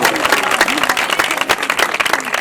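A church congregation claps loudly together in a dense burst of applause lasting a couple of seconds, close and energetic, with faint voices mixed in.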